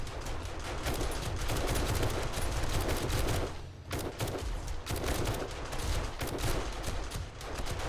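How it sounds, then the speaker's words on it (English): Automated turrets rattle off continuous rapid gunfire in the survival game 7 Days to Die, dense and loud with a brief lull midway, no talking. "what you're hearing is the turrets"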